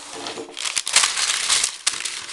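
Baking paper crinkles and crackles close by in a few quick scrunching bursts, with short pauses between them.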